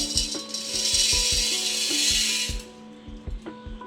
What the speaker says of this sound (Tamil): இது இப்போ அரைச்சிட்டு வந்துக்கலாம்